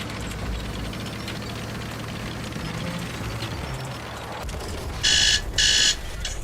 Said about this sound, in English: my alarm made me jump